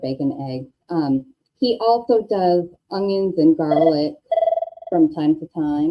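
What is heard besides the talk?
telephone ringing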